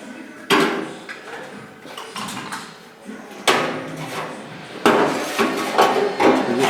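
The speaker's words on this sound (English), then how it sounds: "I'm just going to take the hammer" A hammer taps the inner wing panel of a Mk 1 Ford Escort, sharp metallic knocks spread unevenly through the clip, each ringing briefly, with a few harder strikes near the middle and end.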